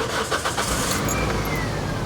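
A car engine starts up during roadside vehicle work in Brisbane, a brief cranking that catches into a steady running rumble, heard close and fairly loud with no talk.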